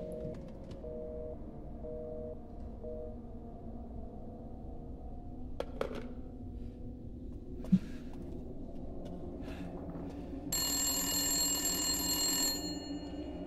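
An old-style telephone rings in repeated short bursts early on in the video game Resident Evil Village, under a low ambient drone, followed by a few clunks and a louder tonal game sound near the end.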